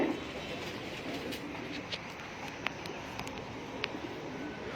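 Soft cooing of a prized performance pigeon settling near a tower, faint and low under steady outdoor background noise with a few small clicks.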